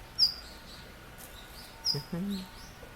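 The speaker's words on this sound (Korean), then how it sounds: "귀여운 아, 딱새가 왔습니다. 귀여운 딱새." A Daurian redstart near the Dadaepo harbour market gives a few short, thin calls over quiet outdoor ambience, with a faint low voice-like sound close by.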